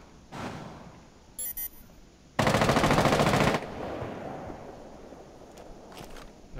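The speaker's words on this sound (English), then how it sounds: "Is he just shooting at no one?" Automatic gunfire in Rainbow Six Siege, a loud sustained burst of about a second standing out from quieter game ambience, with a couple of short clicks just before it.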